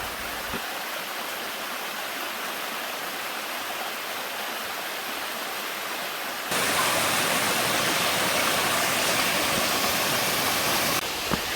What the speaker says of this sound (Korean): 시원한 물소리, 바람소리 등 자연의 소리를 들으며 걷는 산행길이 너무도 즐겁습니다